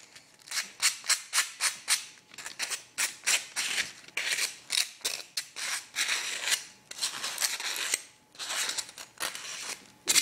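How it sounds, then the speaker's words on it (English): Rough sandpaper rubbed by hand along the cut edge of an empty drink can for a penny stove, heard as repeated short rasping strokes in a steady back-and-forth rhythm, close and fairly loud, with no talking. "I'm just going to take this sandpaper. I'm going to find a bit that's nice and rough, and I'm just going to sand off the edge on it,"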